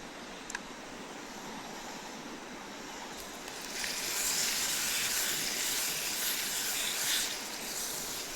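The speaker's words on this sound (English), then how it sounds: "I find that sort of slowly introducing the steak to the pan makes it not stick as bad." A steak sizzles in a hot oiled pan, starting as a steady fry hiss that swells louder and brighter partway through as more meat meets the pan, then holds close and constant.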